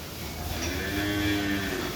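Young heifer calves on a cattle farm let out a drawn-out, fairly close moo that swells and fades over steady barn background noise.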